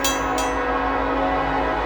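A southbound train rolls past on a rail line, a steady loud rumble with a tonal drone, two brief bright bursts at the start like a horn.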